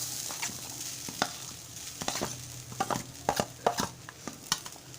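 A spoon scrapes and stirs a thick mixture of grated coconut and jaggery in a pan, with irregular soft clicks and scuffs over a faint low sizzle.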